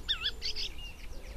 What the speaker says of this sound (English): whatever that is, I think it's a reed warbler, but I don't know.